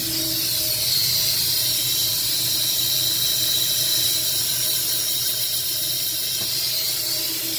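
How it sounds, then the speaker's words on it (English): Pressurized nitrogen escaping from a leak in a pan chiller of a Kairak reach-in refrigerator, making a steady, close, high hiss with a faint squeal that holds unbroken throughout. "So it's leaking right up in the pan chiller."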